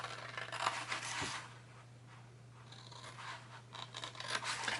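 Scissors cut score lines into a paper gift bag: faint, quiet snipping and scraping strokes with soft paper rustle in a hushed room, with no voices.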